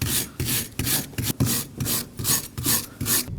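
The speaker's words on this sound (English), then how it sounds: "Go ahead and use a wire brush." A wire brush scrubs the front brake caliper bracket of a 2017-2024 Nissan Armada in quick, even back-and-forth strokes, about eight harsh rasps, loud and close with no talking.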